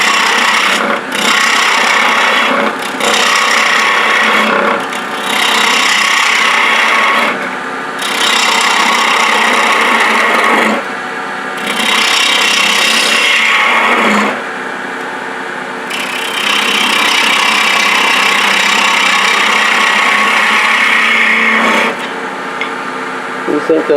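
A carbide tool scrapes against spinning wood as a Christmas tree is turned on a lathe, with repeated bursts of rough, hissing cutting separated by short pauses.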